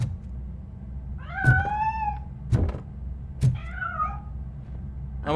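Cat meowing in the RoboCop Rogue City video game: two or three drawn-out, rising-and-falling meows, fairly close and clear, separated by dull knocks and thumps over a low ambient hum.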